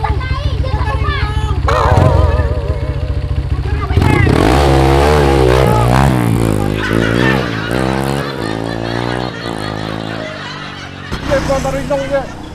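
A motorcycle engine runs loud and close, rising and falling in revving surges over a long stretch, with people talking over and around it.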